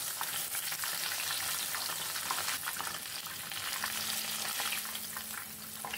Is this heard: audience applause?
no